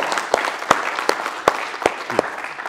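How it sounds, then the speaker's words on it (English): Applause from a small audience at a hall event, sparse and uneven, with a handful of distinct sharp claps standing out over a softer background of clapping. "Hey, another round of applause for Ernest and Ryan."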